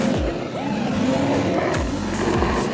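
Ford Bronco engine revving steadily off-road while pulling taut on a recovery strap to free a stuck vehicle, a loud continuous rumble with rising and falling tones throughout.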